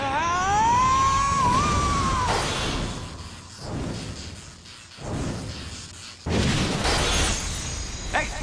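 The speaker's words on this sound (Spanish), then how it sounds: "obligó a Aquiles a chocar contra Salamander, causando una explosión simultánea." A loud cartoon blast from the Beyblade Burst Turbo anime with shattering and booming bursts follows a rising whistle, then crashes and thuds repeat in waves.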